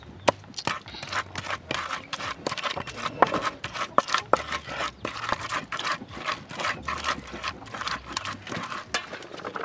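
Spices being ground by hand for soup, rapid irregular pounding and scraping strokes, close and continuous, with crisp knocks throughout.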